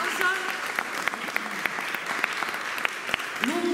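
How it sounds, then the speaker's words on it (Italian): A crowd applauds at a Christmas artistic-lights switch-on ceremony, sustained clapping with sharper individual claps standing out and brief voices mixed in. "Lungo, ma meritatissimo applauso."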